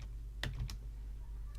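A few keystrokes on a computer keyboard enter a command in a Linux terminal, a short clustered burst of taps followed by a single later tap, fairly quiet over a low background hum.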